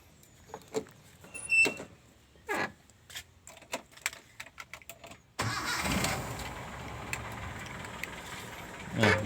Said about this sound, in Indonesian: Kita coba hidupkan mesin dulu ya teman-teman ya